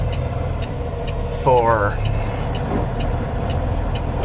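A car engine idles steadily in slow traffic on a highway in southeastern Oregon, stuck behind a cattle trailer during a cattle drive, a constant low rumble under a brief spoken word.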